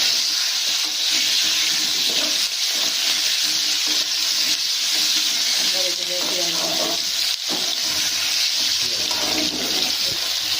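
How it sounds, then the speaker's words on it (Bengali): Cut potatoes stirred and frying in a pan of hot oil with cumin, ginger and garam masala, a continuous loud sizzle with scraping and stirring movements running throughout, no voices. "তো আলুটা নাড়িয়ে নিতে হবে।"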